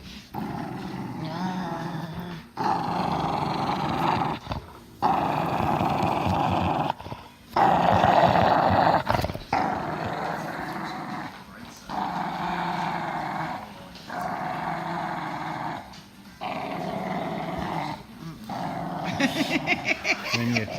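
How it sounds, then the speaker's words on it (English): Intense dog growling in repeated deep, rumbling bursts separated by short pauses, close and loud, continuing throughout with no talk. "He's the most intense dog I've ever seen in my life"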